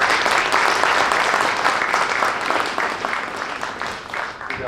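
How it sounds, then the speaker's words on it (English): Audience applause for speaker Jason Kenzie at Squatch Fest 2022, a dense, steady wash of clapping from a large crowd that carries on throughout and eases slightly near the end. "let's give a big round of applause for Jason Kenzie"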